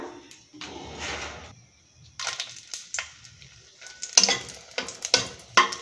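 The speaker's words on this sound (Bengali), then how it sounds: "তার জন্য আমি কড়া বসিয়ে দিয়েছি, গরমে তেল দিয়ে দিলাম।" Hot oil sizzles and crackles in a kadai for a spicy chutney, with bursts of frying hiss and stirring scrapes coming in irregular waves at close range.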